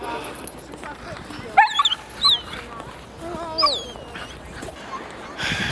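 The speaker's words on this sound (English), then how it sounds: "It's a great dog park." Dogs at a dog park near Banff give a few sharp barks and high whimpers and yips in short bursts, moderately close, over faint background bustle.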